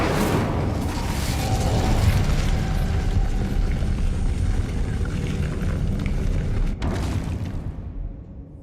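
A loud fiery blast from the Incendio fire spell in Hogwarts Legacy roars and rumbles for several seconds, then cuts off sharply and fades away.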